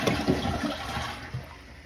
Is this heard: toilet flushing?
yes